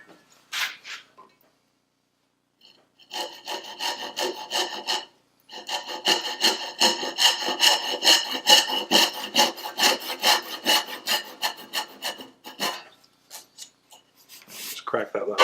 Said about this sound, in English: I'm going to saw down into that.